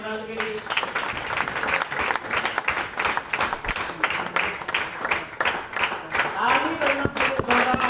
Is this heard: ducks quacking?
no